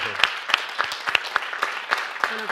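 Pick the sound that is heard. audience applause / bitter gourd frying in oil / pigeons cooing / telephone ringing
audience applause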